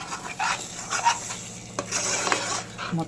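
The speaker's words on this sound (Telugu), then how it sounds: "దీన్ని ఇప్పుడు అడుగంటకుండా మనం కలుపుకోవాలన్నమాట." A spoon scrapes and stirs methi chaman curry simmering in oil in a pan, with irregular clinks and soft sizzling throughout.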